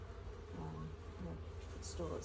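Honey bees hum continuously around an opened hive during a late-May hive check, a dense close buzzing with a person speaking briefly over it.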